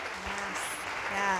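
An audience claps together in a steady burst of applause at a talk reflecting on the midterm elections, sustained and fairly even with a slight swell toward the end.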